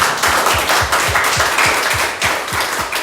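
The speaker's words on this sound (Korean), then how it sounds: "우리와 함께 하신 주님께 영광의 박수 올려드립니다" Applause rises at a church's Friday evening prayer meeting as a congregation claps together in a steady, dense wash of hand claps, with soft rhythmic low thumps pulsing underneath throughout.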